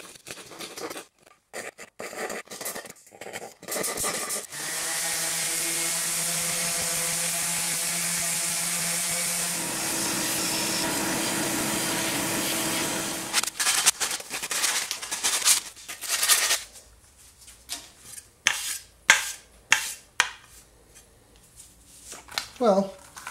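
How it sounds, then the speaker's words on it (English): Orbital sander working a wooden Halloween ghost cut-out: a steady whirring drone of about five seconds between stretches of rubbing, shuffling and handling noises, with a voice talking at times. "I'm probably going to use a combination of the orbital sander in a couple places and something to just kind of rub"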